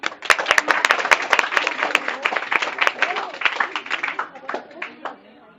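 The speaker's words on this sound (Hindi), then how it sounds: "तालियां भैया।" Audience clapping at a school session on vegetarianism and the environment, a dense burst of many hands that thins out and fades toward the end.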